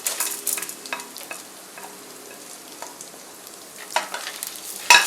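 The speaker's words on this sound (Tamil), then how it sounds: "எல்லாமே போட்டு நம்ம ஃப்ரை பண்ணிடலாம்" Urad dal, red chilies, peanuts and cashews frying in a pan, with soft sizzling and repeated stirring scrapes of a spoon, close and fairly loud, bursts coming and going over a few seconds without talk.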